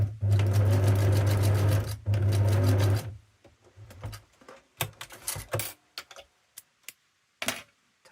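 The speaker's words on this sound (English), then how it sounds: "I'm just going to run a zigzag stitch along this side" A sewing machine runs a zigzag stitch along fabric, a loud steady mechanical whir for about three seconds with a brief pause, followed by scattered clicks and taps as the work is handled.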